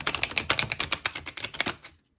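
Glossy, bendable oracle cards from a Mists of Avalon deck are shuffled by hand, giving about two seconds of rapid, close crackling riffles and flicks that stop abruptly.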